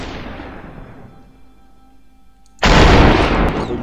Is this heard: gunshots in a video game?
yes